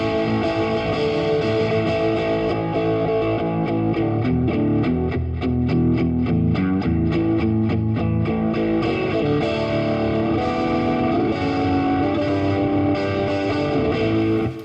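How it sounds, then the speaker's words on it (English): Electric guitar through a digital amp with a Tube Screamer pedal adding heavy distortion, playing a loud, continuous run of saturated riffs and chugging notes with no talk over it. "We've got the Tube Screamer pedal, it's adding distortion."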